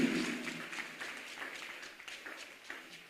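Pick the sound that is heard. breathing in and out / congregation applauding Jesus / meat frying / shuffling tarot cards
congregation applauding Jesus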